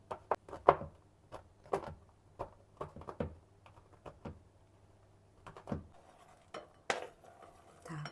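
Milk chocolate is chopped into small pieces with a knife for brownies: a series of sharp, fairly close knife taps hit the board in irregular bursts, with a few quiet gaps between them.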